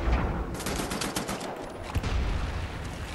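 Rapid bursts of video game gunfire from Wolfenstein: The New Order crackle in quick succession, loud and close, with sharp cracks layered over a busy rumble.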